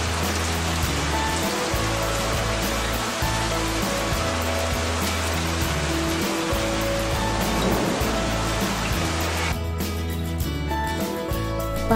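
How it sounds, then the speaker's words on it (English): Steady, dense rain patters heavily and continuously on a surface, with a broad hissing wash throughout and a slight thinning near the end. "Rain rainy."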